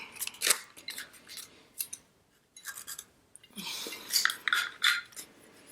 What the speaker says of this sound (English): it's difficult for the punch to go through